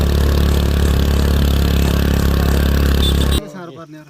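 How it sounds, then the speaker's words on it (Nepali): A scooter engine strains hard while climbing a steep dirt road on an off-road ride near Kathmandu, a loud continuous drone that cuts off abruptly near the end, followed by quieter sounds. "कस्तो ठाडो हो बाटो त स्कुटरले तान्नै गाह्रो"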